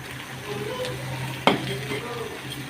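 A mustard paste mixture with taro stolons is stirred in a pan, giving soft scraping and a low simmering hiss, broken by one sharp knock of a utensil against the pan.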